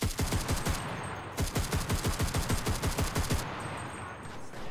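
A grease gun submachine gun fires in the Enlisted video game, rapid sustained bursts of sharp repeated shots with a brief gap between two long strings, loud and close.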